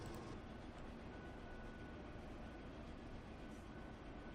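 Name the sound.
steam trains racing in video game Transport Fever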